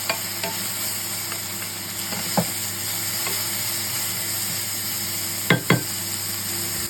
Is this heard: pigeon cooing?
no